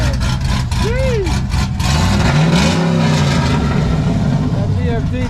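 A fully built car engine with BFD cams runs loud and close, revving with a choppy lumpy idle between throttle blips, while people talk over it.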